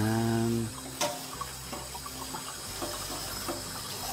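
Tap water runs over plant sprigs being washed, a loud gushing stream that cuts off after a moment, followed by quieter handling clatter, drips and splashes.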